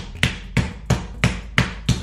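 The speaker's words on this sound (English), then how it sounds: "And just pound it away" A hammer pounds chicken flat for a sandwich: six sharp, evenly spaced thuds about a third of a second apart, close and solid, with nothing else around them.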